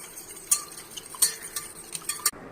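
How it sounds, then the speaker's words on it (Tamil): Fork or whisk clinking against a bowl while eggs are beaten for a fluffy ladle omelette, a run of sharp, quick metallic taps spread irregularly over a couple of seconds, close and fairly soft. "எக்கு ஃபுல்லாக பீட் பண்ணியாச்சு"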